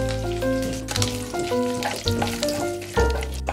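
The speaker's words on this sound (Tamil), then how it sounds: "அடுத்தது கொஞ்சம் கருவேப்பிலை போட்டுடலாம்" Curry leaves crackling and frying in hot oil for a vegetable white kuruma, a continuous bright sizzle sitting under loud melodic background music.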